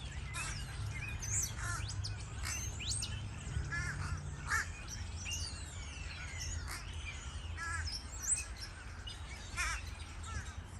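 A flock of crows caws from a tree, with many overlapping harsh calls at a moderate distance, mixed with smaller chirps and a steady low outdoor rumble, and no talking.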